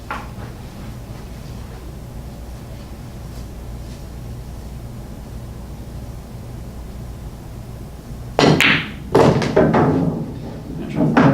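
A nine-ball pool shot ends a stretch of quiet table ambience: the cue strikes, then sharp clacks and thuds follow as balls hit the rails and each other, close and crisp.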